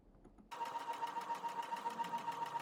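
A sewing machine stitches a folded fabric hem 2 mm from the edge while sewing a skirt. After a short quiet start, it runs in a steady, fast, close-up whirring rhythm to the end.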